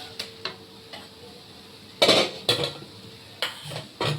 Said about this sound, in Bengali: এবার আমি ঢাকনাটা খুলে দেবো